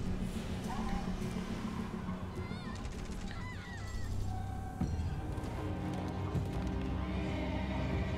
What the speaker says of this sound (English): And that goddamn horse going in.